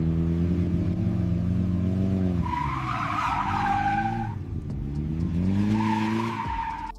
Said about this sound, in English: As you can see, the car is drifting on sand exactly as described in the prompt.